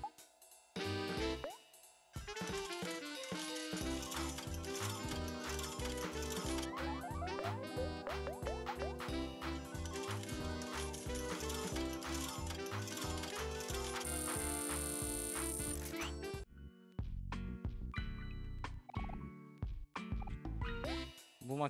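A spinning, clicking slot-style machine in a video game runs with a rapid ratcheting patter over bright game music. A chime follows, then scattered clicks.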